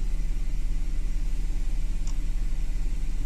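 An Audi Q5's secondary air pump runs steadily while the engine is held at about 1500 RPM, a constant droning hum and rumble close by, with no talk.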